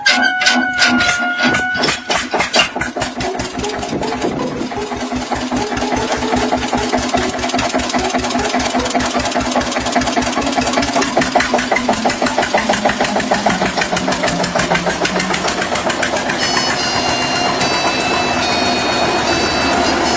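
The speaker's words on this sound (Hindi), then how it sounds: "चल भाई स्टार्ट कर ट्रैक्टर।" A tractor engine cranks and catches, then settles into a steady, loud, rhythmic mid-pitched chug that runs on without pause, close by and with no talk over it.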